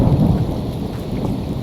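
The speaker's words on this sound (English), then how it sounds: "cloudy weather with varying degrees of cloud cover, realistic rain effects, including visual rain droplets and appropriate sound effects" Thunder rumbles over steady rain from a Fallout: New Vegas weather mod, a loud low roll with dense rainfall hiss throughout and no voices.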